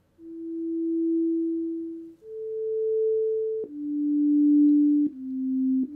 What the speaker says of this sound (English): So now I should get a sort of slow fading in note and then a slow fading out note.